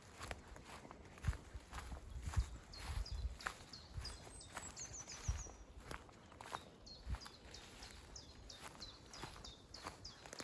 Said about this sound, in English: can hear a chiff chaff there in the background.